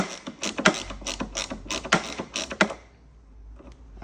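A T20 Torx driver works loose the MAF sensor bolts on a MK5 GTI intake, giving a close, rapid series of sharp ratcheting clicks in uneven bursts that trail off into quiet.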